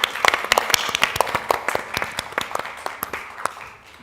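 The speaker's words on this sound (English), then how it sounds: "please join me to give a big round of applause for Dr. Krishnapong Kiratikon." An audience applauds an award recipient at an education event, a steady, fairly close round of many hands clapping that holds for several seconds and thins slightly toward the end.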